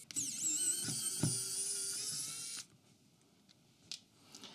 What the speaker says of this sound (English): with this handy little electric screwdriver, the job is a doddle